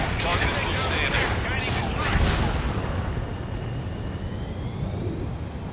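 A bomb dropped from a combat aircraft in Ace Combat 7 detonates with a loud blast that rolls into a long rumbling decay under jet engine noise, while a voice talks over the start.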